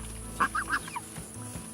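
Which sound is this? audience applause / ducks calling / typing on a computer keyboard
ducks calling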